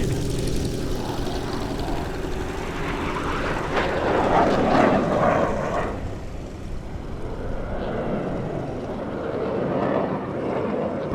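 Douglas A-26 Invader piston-engine aircraft taxiing at an airshow, a loud sustained propeller and engine drone that swells as it passes close, then eases off.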